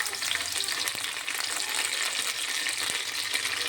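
Onions and curry leaves frying in oil for egg fried rice, a steady, dense sizzle that holds evenly throughout with a few faint stirring clicks and no voices.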